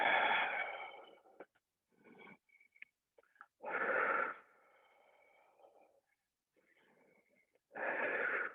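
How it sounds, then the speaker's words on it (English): Heavy, wheezy breathing during a pilates hold, with three long, forceful exhales spaced a few seconds apart and softer breaths between them, close and fairly loud in a quiet room. "Three more breaths."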